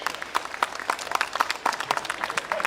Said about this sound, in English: give him a round of applause, ladies and gentlemen, on the inside of Top S